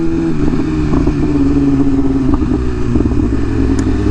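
A BMW M1000RR sport motorcycle engine drones steadily while riding, a loud sustained buzz with slight pitch shifts and wind clatter, no voices.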